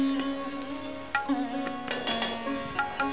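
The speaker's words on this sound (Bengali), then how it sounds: "আদা বাটা দিয়ে নেড়ে একটু ভেজে নেওয়া হচ্ছে" Ginger paste being stirred and fried in a pan for a paneer (chhana) korma, with a steady low sizzle under repeated scraping and clinking strokes of a spoon against the pan, close and moderately loud, with no talking.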